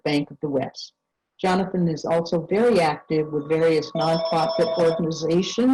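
A phone rings under a man's steady speech in a real estate webinar, its thin repeating electronic tone entering partway through and sounding faint beneath the voice.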